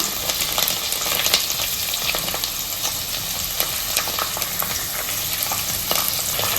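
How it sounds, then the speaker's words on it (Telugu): Onions and dried red chillies fry in hot oil for a boneless chicken pickle, a loud continuous close sizzle dotted with crackling pops. "ఇప్పుడు ఉల్లిపాయలు వేసుకుంటున్నాను. ఉల్లిపాయలు ఇంకా ఇది ఎండుమిర్చి,"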